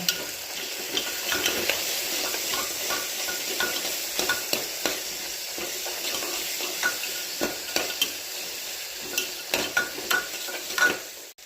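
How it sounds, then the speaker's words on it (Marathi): Soya chunks for a soya chunk khichdi fry and sizzle steadily in a pan while a spoon stirs and scrapes them, with repeated clinks and scraping strokes over the continuous close sizzle, growing busier toward the end. "सोयाबीन वड्या टाकल्यावर हलवून घ्या"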